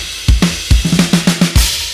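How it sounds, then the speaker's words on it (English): An original recorded acoustic snare drum is struck alone in a loud, close, dry pattern of about ten hits, with a quick flurry of rapid strokes in the middle. "For example, you could take this snare"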